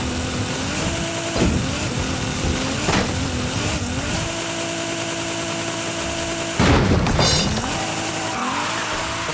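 A car in a racing video game roars through gear changes with engine revs and tire noise, then slams into a building with two loud crunching impacts. No talking.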